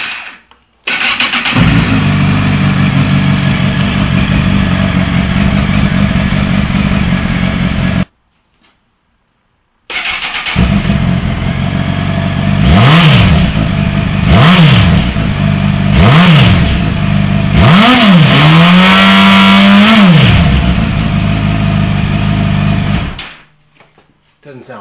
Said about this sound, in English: get her started up, and see what she sounds like, stock pipe only.